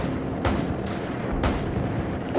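Cannon fire in the video game Call of Duty Modern Warfare: two heavy booming blasts about a second apart over a continuous rumbling battle background.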